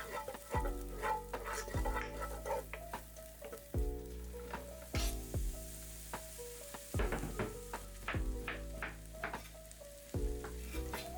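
Chopped garlic and green onions sizzle in olive oil in a pot, a steady crackle broken by several sharp utensil clanks against the pot at intervals, close and fairly loud with no talking.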